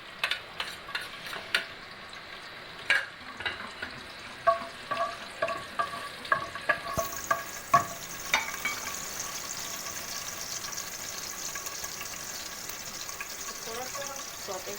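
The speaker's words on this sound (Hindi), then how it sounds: "ऑयल में हम क्रश्ड गार्लिक और जूलियन कट जिंजर थोड़ा सा सौते करेंगे" Crushed garlic and julienned ginger sauté in hot oil, with stirring clatter and clicks over the first half, then a steady sizzle fills the rest of the stretch.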